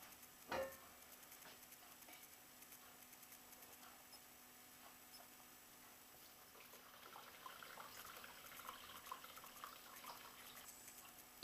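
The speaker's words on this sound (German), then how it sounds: "Da tropft Sojamilch." Homemade soy milk drips through a cloth laid in a sieve propped on two sticks, faint soft patters and ticks in a quiet room, with a couple of louder knocks at the start and end.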